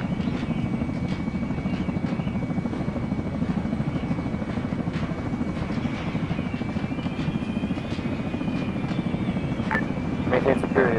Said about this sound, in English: We group by the chopper.